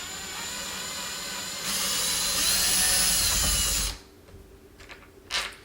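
A cordless drill backing square-drive screws out of a subwoofer cabinet, a close steady whine that rises in pitch and loudness partway through, then stops abruptly, followed by faint clicks and handling noises.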